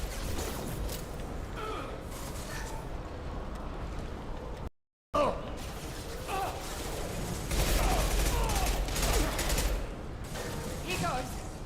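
Gunfire in the game Mass Effect 2 on Hardcore difficulty, sustained bursts of shots and clattering combat noise running the whole time, loud and dense, with game voices over it and a brief dropout midway.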